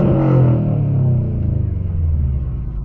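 Subaru STI turbo engine heard from inside the car with a window down, a loud low rumble that swells early and then settles into a pulsing drone as the revs ease.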